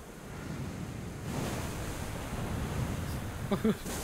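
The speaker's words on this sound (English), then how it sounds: "That's quite the storm we got going on." Stormy sea waves and gusting wind in the Zelda: Link's Awakening video game, a steady broadband roar that swells slightly midway, with brief sharp game sounds near the end.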